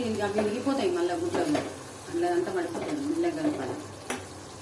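Egg curry masala being stirred in a frying pan, with a spoon scraping and clinking against the pan over a steady sizzle while a voice talks over it throughout.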